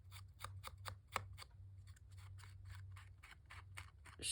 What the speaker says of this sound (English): So I'm going to ink around her, and I just fussy cut her out